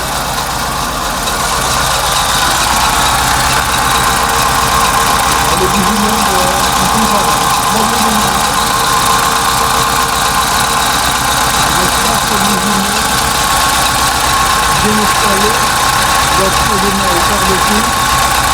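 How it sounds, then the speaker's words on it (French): A Ford Scorpio engine idles steadily at close range, a constant low rumble with a faint rhythmic knock running throughout. "Le moteur tourne avec une régularité un peu plus efficace qu'avant"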